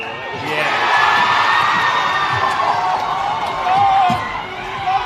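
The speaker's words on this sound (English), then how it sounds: "the crowd's getting a little bit heated" A crowd cheers and shouts at an under-20s rugby test match between New Zealand and Australia, a loud, continuous roar with whoops and whistles that swells near the end, with commentary talk underneath.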